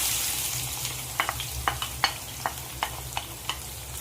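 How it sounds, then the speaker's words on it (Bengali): Steady hiss of onions frying in hot oil for chicken curry, with a spatula tapping and scraping the pan every so often, close and with no voices. "তেল গরম হয়ে গেছে, এবার আমি পেঁয়াজটা ভেজে নিচ্ছি"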